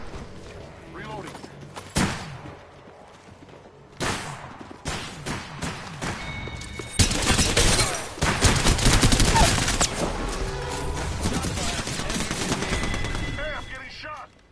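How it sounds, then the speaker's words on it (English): Automatic and single gunfire in the shooter game Apex Legends, bursts and fusillades ringing out loud and close over about fifteen seconds, with in-game voice lines mixed in. "I'm taking fire."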